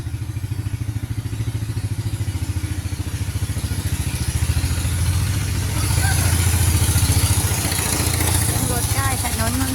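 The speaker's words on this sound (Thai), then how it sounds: "รถไถนาเดินตาม ตุกๆตุกๆจ้า" A single-cylinder walking tractor engine chugs loudly and close by in a fast, steady putter, the rhythm rising slightly partway through.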